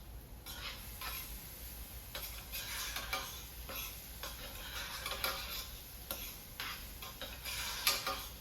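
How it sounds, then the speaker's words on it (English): Mushrooms cooking in a pan, a soft continuous sizzle with scattered light crackles and faint stirring scrapes, no talk. "So while the mushrooms are cooking, these are going to reduce"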